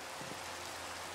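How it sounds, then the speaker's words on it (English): Steady rain hisses in a continuous wash in a Halloween-modpack video game at night, an even, moderately loud downpour with no voices. "Has been night, and it has been raining."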